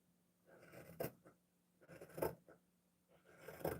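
Scissors snip through a sewn fabric seam in three short, quiet bursts spaced about a second apart, each a brief crisp cut in a near-silent room.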